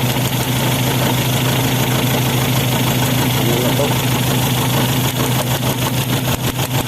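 A Toyota 4K engine idles rough and shaky, a loud steady drone with uneven knocking pulses and vibration throughout, while people talk nearby.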